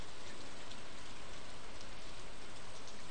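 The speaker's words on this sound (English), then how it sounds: "I watched the curtains of rain whisper above the silent lake." Rain falls on a lake in the video game Stardew Valley, a dense, steady hiss of drops that holds constant throughout, close and full, with no voices.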